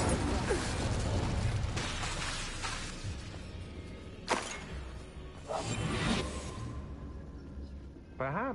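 Incendio fire spell cast in Hogwarts Legacy amid a busy combat mix: whooshing bursts and sharp crashes over a dense rumbling bed, with a brief spoken line partway through.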